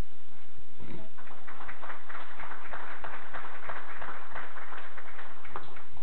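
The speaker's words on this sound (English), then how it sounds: "I feel like we should clap." Applause from people at a board meeting, a steady patter of hand claps filling the room for several seconds at moderate loudness, with no talk over it.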